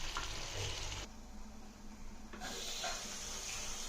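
A potato and tomato curry simmers in a pan, giving off a steady, close bubbling sizzle that dips briefly in the middle, with no voices.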